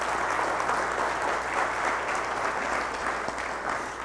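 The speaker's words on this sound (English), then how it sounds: "Let's give these people a huge round of applause" A church congregation gives a dense, even round of applause, steady and moderately loud throughout a few seconds.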